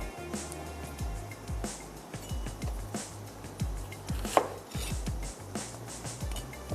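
An onion sliced with a knife on a cutting board, giving a steady run of close, regular chopping knocks throughout, with no talk.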